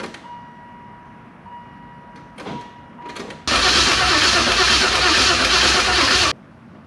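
A 1994 Chevrolet Caprice with a 6.0 V8 and 4L80e transmission has its key turned: a chime tone and a few clicks, then a loud burst of about three seconds that cuts off abruptly, with no talk.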